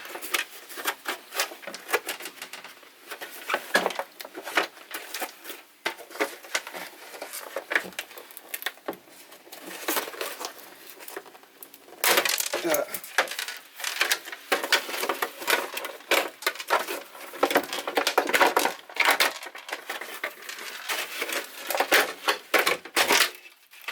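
Hand snips cutting into the plastic housing of a Ford Fiesta Mk6 headlight, a long run of close, dense crunching and cracking snaps that come in uneven bursts, with no talk.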